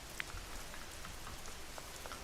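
Rain falls steadily in the video game Schedule I, a dense even hiss of drops with a few brighter patters standing out, continuous and fairly soft with no voices.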